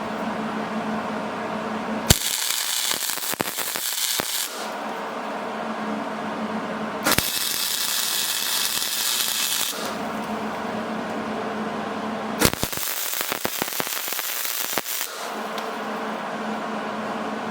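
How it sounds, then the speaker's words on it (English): An arc welder tacks a 1/4 inch nut onto a steel plate in three loud crackling, hissing bursts of a couple of seconds each, separated by a steady background hum. "we're going to tack our 1/4 inch nut on the back of this plate"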